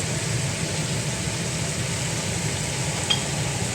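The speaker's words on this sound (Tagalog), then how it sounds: "dahil natanggal na natin yung ating manok, lalagay na natin yung ating sibuyas" Chopped onion goes into a hot pan where chicken was cooking and sizzles steadily, a broad even hiss that stays constant, with a single faint clink near the end.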